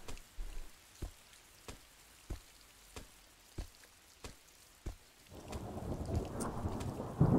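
Thunder and steady rain from a horror video game: a series of sharp, evenly spaced thunder cracks over quiet rainfall, then the rain swells into a loud, dense downpour.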